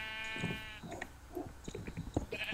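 Sheep bleating in the video game Minecraft, a clear wavering bleat at the start followed by softer game sounds and scattered clicks, fairly quiet.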